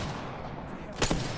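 A short burst of gunfire from the Apex Legends battle royale video game cracks out near the end after a low rumbling ambience, a single sharp, loud report.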